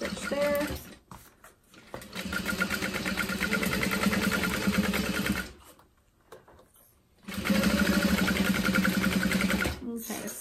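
A sewing machine runs in two long bursts, stitching a seam on a vinyl zip-top tote, with a steady rapid whir and a brief pause between the runs. The needle hums loud and close.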